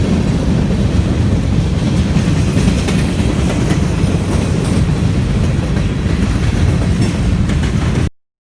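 A train engine rolls past at close range, a loud, steady rumble of wheels and rail noise that holds throughout before cutting off abruptly near the end, with no voices.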